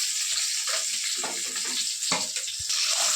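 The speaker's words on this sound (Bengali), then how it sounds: "মাছগুলো আমার ভাজা হয়ে গেছে" Fish frying in hot oil in a pan makes a dense, continuous close-up sizzle, with faint scraping and stirring sounds mixed in.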